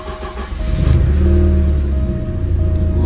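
A Porsche 944 engine catches and starts, swelling quickly into a loud, close idle with a low steady rumble that holds for a couple of seconds, with no talking over it.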